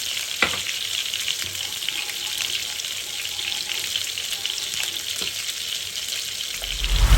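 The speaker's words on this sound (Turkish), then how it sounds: "Hepsini bir güzel kavuruyoruz." Ingredients for a meatball İskender sauté in a pan with a bright, continuous frying hiss and occasional stirring scrapes, rising a little at the end.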